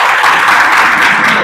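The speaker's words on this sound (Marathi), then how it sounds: "टाळ्या वाजवा एकदा." Audience applause at a motivational talk, a dense, even wash of many hands clapping at once, loud and continuous for a brief burst with no voices over it.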